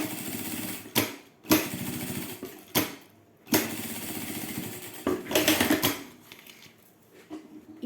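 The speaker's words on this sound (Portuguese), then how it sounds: "Eu vou fazer agora a costura aqui que vai ficar aparente" A sewing machine stitches a visible topstitch seam along the flap of a wallet, running in several short bursts separated by brief pauses, close and fairly loud, with no talk.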